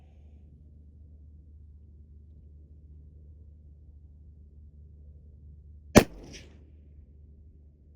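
A single sharp 6mm Dasher rifle shot fired at a target outdoors, one loud crack with a short rumbling tail, set against an otherwise quiet low background.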